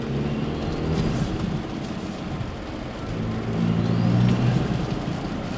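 A Land Cruiser 250 fitted with an SXTH Element intake runs at about 1200 RPM, producing a steady low engine rumble with a mild swell in the second half, heard from inside the vehicle without talking.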